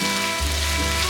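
Fried potatoes and chicken are stir-fried together in a pan, giving a loud, dense, steady sizzle over a brief moment, close up with no talking.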